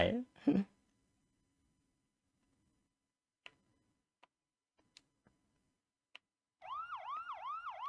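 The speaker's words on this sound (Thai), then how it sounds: "อ้าวรถตำรวจมาพอดีเลย" Police car siren in a horror video game arrives late, a loud wailing siren cycling quickly after near silence, sparse ticks and a brief voice at the start.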